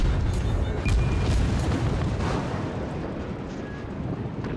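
Battleship guns in World of Warships fire with a deep, rumbling boom that rolls out and slowly fades under a windy in-game background.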